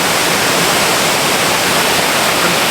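Levencorroch Burn waterfall at Kildonan on the Isle of Arran roars steadily at close range, a dense unbroken rush of falling water filling the whole clip with no voices.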